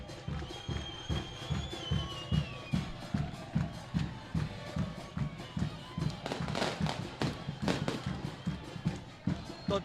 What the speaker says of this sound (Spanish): El humo verde, los petardos.